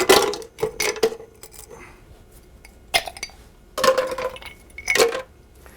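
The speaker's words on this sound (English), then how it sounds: "I'm putting in 1 cup, 130 grams of ice cubes." Ice cubes drop into a 20-ounce single-serving blending cup in bright clinking clusters, a burst at the start, then more rattling falls near the middle and the end with quiet gaps between.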